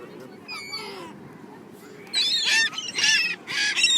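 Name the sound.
seagulls calling at the beach while being fed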